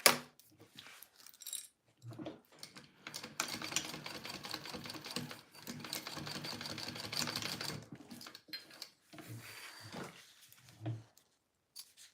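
A sewing machine basting fabric for a Joey Pouch runs in short bursts, then one long steady run in the middle, with scattered clicks and handling noises around it.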